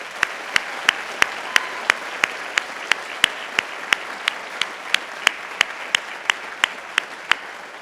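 Graduates at a university spring convocation receive steady audience applause, a dense wash of clapping with a few sharp, evenly spaced claps standing out near the front, continuing for the whole stretch.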